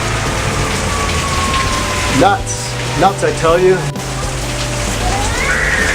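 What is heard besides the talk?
heavy monsoon rain in Arizona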